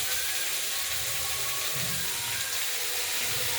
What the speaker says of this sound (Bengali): ফুলকপিগুলো দিয়ে দিলাম।